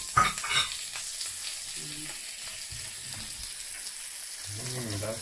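Portuguese chorizo fries in a pan with a low steady sizzle while it is stirred, scraping clatter early on, and people talk quietly over the cooking.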